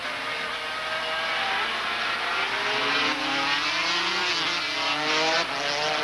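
500cc Grand Prix motorcycles race at Interlagos, their high-revving engines making a continuous loud drone with shifting, rising and falling pitches as the bikes run close together.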